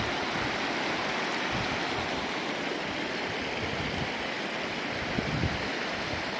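Water pouring out of a mountain lake in Kyrgyzstan into a stream channel, a continuous loud broadband rush of flowing water close by, with no speech.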